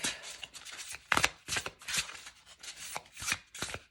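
A deck of cards is shuffled in quick bursts, with riffling rattles and sharp slaps of cards coming in close, uneven clusters separated by short pauses.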